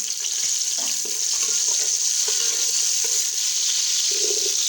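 Onions sizzle steadily in a hot pan with a bright, continuous hiss, broken by soft stirring scrapes and a few low clunks close by.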